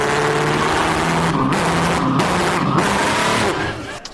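A person imitates a car driving away with their voice, a continuous rumbling engine-like drone with a few brief breaks that fades out at the end.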